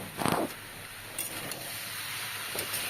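Chopped tomatoes hit a hot pan for a potato curry, giving a quick burst of hiss at the start that settles into a steady quiet sizzle with a couple of faint clinks, close by and without any talking.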